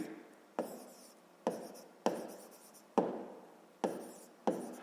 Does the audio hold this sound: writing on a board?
yes